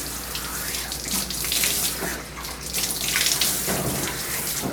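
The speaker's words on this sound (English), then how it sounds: "Keep the ears down while you rinse his head." Running water pours over a Golden Doodle's head during a rinse in a grooming bath, a continuous splashing flow that swells and dips as it moves across the fur, close and fairly loud.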